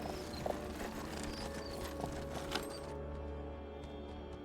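Horse sounds in the video game Kubifaktorium: repeated hoof clip-clops and horse noises over a steady game background hum, moderately loud with no talking.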